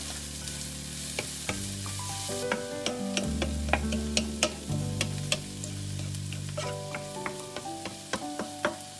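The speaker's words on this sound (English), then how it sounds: "stirring constantly" Minced garlic, onions and parsley sizzle steadily in a pan while a utensil stirs them, with repeated sharp scrapes and clinks against the metal over a continuous frying hiss, close and fairly loud, with no voices.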